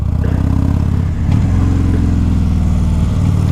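A Harley-Davidson Dyna motorcycle engine revs and accelerates hard, a loud, close, continuous throaty rumble that surges in pitch as it pulls, with no talking.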